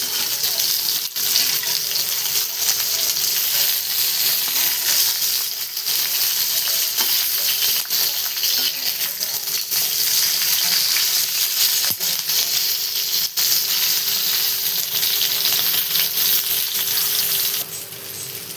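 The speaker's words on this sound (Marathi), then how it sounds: "आपल्या मिरच्या तळून झालेले आहेत बघा आता" Green chillies fry in a pan without salt, giving a steady, loud sizzle and crackle that runs throughout, with no talking.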